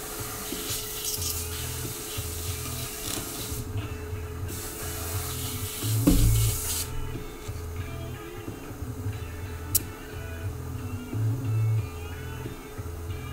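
An airbrush hisses steadily while being loaded with paint for skull and flame artwork, with a low pulsing compressor hum underneath and brief louder bursts of spray, heard close with no talking.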